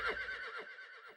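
A single horse neigh rings out loud and close as a sound effect, a high shaky whinny that trails off over about a second, with no one talking.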